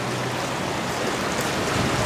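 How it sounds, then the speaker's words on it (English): Water is poured from one glass into another, producing a brief, steady, close splashing rush that runs without a break. "You're just pouring the water from one glass to the other."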